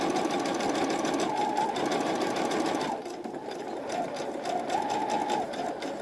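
A sewing machine runs steadily, adding a second row of stitching along a seam of a girl's Civil War era dress, with a short pause near the midpoint before the loud, even whirr picks up again.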